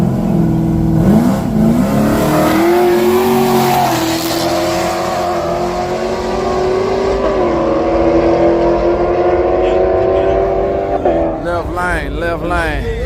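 A Camaro and a Mustang in a street race, engines roaring loud and close with a sustained climbing rev and gear changes, then a sharp rise near the end, voices talking underneath.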